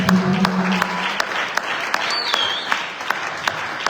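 A church congregation applauds in dense clapping that stays loud and steady with a few sharper claps standing out and a brief voice near the start.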